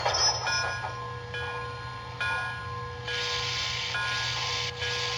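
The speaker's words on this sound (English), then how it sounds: "the bell will turn off gradually" Repeated clanging bell from an MTH Protosound 3.0 model train, several evenly spaced metallic rings with a lingering tone, fairly loud and close over a low rumble, no talking.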